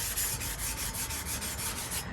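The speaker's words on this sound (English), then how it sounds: "I guess the hardest task is freaking sanding things" Steady back-and-forth hand sanding of a motorcycle part on a Kawasaki W900L, prepping it for primer; a rhythmic rasping scrub repeats about every quarter second, close and alone with no talk.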